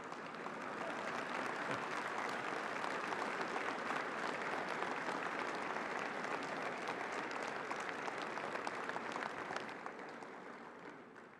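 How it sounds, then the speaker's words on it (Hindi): A large audience at Bharat Tex breaks into loud, sustained applause, a dense wash of clapping heard alone that fades slightly at the end. "इसमें तो ताली बजनी चाहिए ना भाई।"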